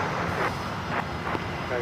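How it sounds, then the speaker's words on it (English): A Gulfstream G450 jet taxis at LAX, producing a steady broadband roar with a faint high whine that holds throughout, while a person talks over it. "We also have a Gulfstream G450 taxiing over."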